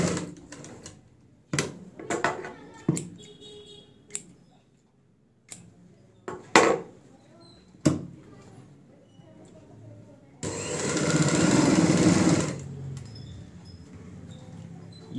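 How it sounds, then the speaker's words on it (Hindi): A sewing machine stitches a ladies' purse in a burst of dense, steady whirring near the end, after scattered clicks and taps from handling the fabric and setting the machine. "आगे जो हमने निशान लगाया है यहां से सिलाई की शुरुआत करेंगे।"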